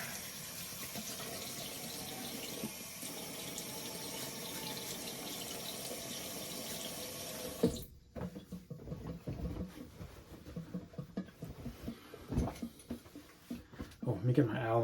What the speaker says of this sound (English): excuse the water. I'm going to wet my face a little bit here